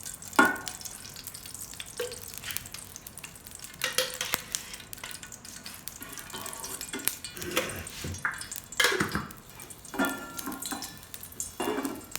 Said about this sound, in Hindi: तड़का लगाना है